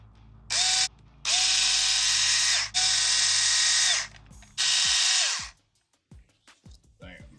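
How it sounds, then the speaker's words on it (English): A cordless power driver whirs in four bursts as screws go into a Redcat Ascent 18 RC crawler, each run ending in a ratcheting stop, followed by small clicks and handling noises. "Get these screws in."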